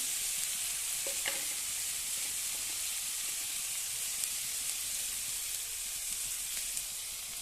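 Ginger, garlic, chopped coriander leaves and green chili fry in a pan for chickpea chicken curry, giving a steady bright hiss of sizzling oil with a few faint stirring knocks.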